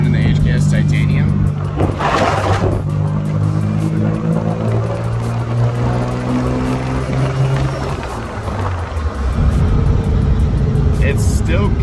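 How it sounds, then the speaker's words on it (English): A Toyota Supra running an HKS titanium exhaust with the resonator removed drones with a loud, raspy, low engine note that rises and dips through revs, heard up close and continuous. "I did take the vibrant resonator out of the car, so it's just running the HKS titanium"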